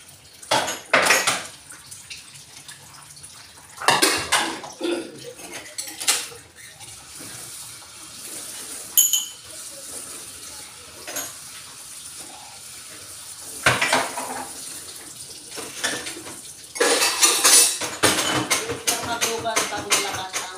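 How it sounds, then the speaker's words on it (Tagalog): Dishes clatter and clink in a sink while strong running water splashes intermittently, with bursts of louder scrubbing and rinsing near the end. "Masarap mahugas ng plato"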